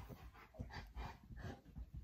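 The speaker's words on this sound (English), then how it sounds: "This is my dog." A pet dog makes soft, faint whimpering and panting sounds in a quiet indoor room, short breathy whines repeating every fraction of a second.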